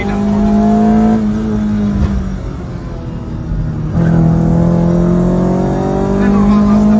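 Renault Megane with a 2.0 16V F7R engine driving hard, a loud engine drone whose pitch climbs as it accelerates, dips briefly during a gear change, then climbs again, with someone talking over it.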